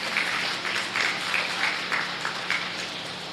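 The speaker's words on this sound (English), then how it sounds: "Let's give her a round of applause" Audience applause at a county fair rabbit show, a thin, steady patter of clapping from a modest crowd with a few louder bursts, moderately distant and heard alone for a few seconds.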